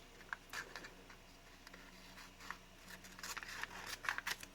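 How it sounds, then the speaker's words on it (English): Quiet, close scissors cutting cereal box cardboard corners with a series of irregular snips and crunches, growing busier toward the end. "Then I take my scissors and I kind of cut out the corners like that."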